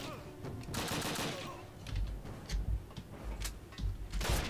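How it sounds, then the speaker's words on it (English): Gunfire in the original Call of Duty campaign, bursts of rapid shots and thumps over a continuous battle din, moderately loud, no talk. "Everyone who's shooting at me."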